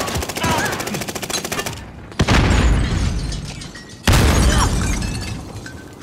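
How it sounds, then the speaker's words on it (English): Two heavy, close explosions from a grenade in a multiplayer video game, spaced about two seconds apart, following a stretch of rapid gunfire. "Grenade's flying."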